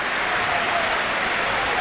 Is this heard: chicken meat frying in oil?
no